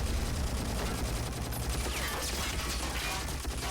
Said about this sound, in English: Oh, he's shooting his grenade launchers.